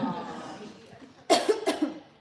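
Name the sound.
coughing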